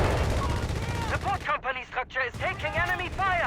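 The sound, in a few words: 30 cal machine gun firing in video game Company of Heroes 3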